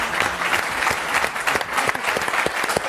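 A French television studio audience applauds arriving guests, a dense, even wash of many hands clapping at once, loud and close, with no voices over it.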